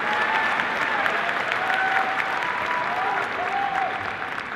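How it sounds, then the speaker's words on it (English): A packed room at a Star Wars Celebration panel for The Mandalorian breaks into continuous applause, with faint whoops and cheers riding over the steady clapping. "So a huge applause for all of you in this room"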